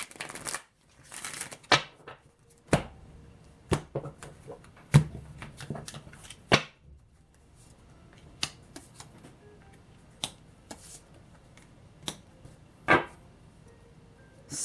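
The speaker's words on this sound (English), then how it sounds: "let me mix these cards up one more time" Tarot cards being shuffled by hand make sharp, scattered snaps and riffles, each crisp and close, separated by short pauses of near quiet.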